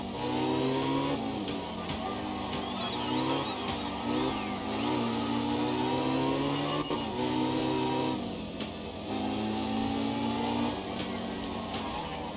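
The rear-engined Porsche GT3 race car in ACC holds a steady, loud engine drone for the whole stretch, with the pitch rising and falling through gear changes and a few short clicks over the top.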